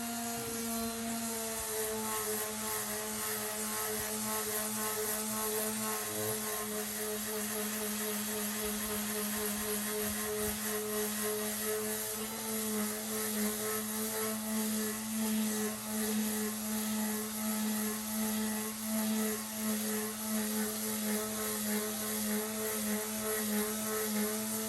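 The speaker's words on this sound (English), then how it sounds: "So we're going to have to sand down the front of these drawers." Power sander working drawer fronts with 80 grit sandpaper, a steady close whining hum with a rough grinding hiss that runs unbroken and even throughout.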